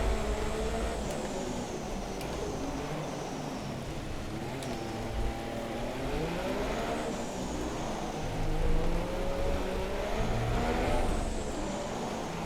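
F1 2017 race cars at the Monaco Grand Prix, with engines droning and rising and falling in pitch as cars pass and shift gears, continuous and fairly loud.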